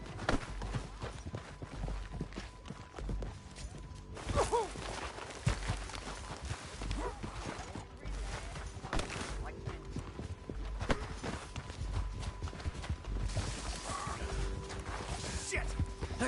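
Horse hooves clip-clopping in the video game Red Dead Redemption 2, steady hoofbeats running throughout amid other game noise, with voices talking over them.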